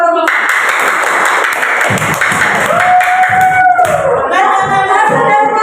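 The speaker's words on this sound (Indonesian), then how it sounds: "Tepuk tangan buat kelompok." Clapping from a group of students in a classroom, a steady patter of many hands running throughout, with a teacher's voice talking over it and a brief tonal whistle partway through.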